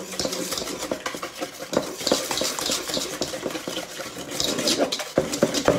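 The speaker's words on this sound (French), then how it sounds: "On va le détendre un peu au fouet" A whisk beats a soft mixture of sugar, yogurt and cheese in a bowl, giving rapid, irregular clicks and scrapes against the sides in quick bursts, close and moderately loud.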